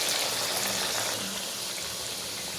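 Coriander vadi fry in hot oil over a low flame, giving a steady, dense sizzling hiss that fades slightly toward the end.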